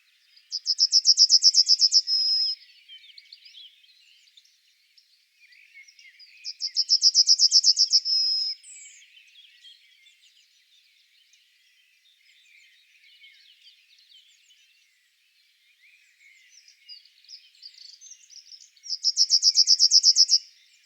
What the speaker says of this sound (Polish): Na koniec posłuchajmy jego śpiewu.